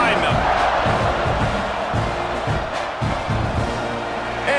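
Stadium crowd noise from an NCAA 26 college football video game, Texas A&M hosting New Mexico, a steady loud roar of cheering fans filling the whole clip with muffled commentary voices underneath.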